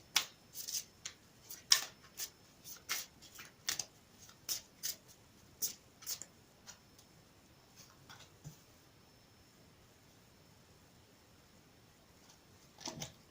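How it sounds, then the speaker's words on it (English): A tarot deck being shuffled nearby in a quiet room, a series of crisp riffles and taps in a steady rhythm, then a final burst. "One more final shuffle."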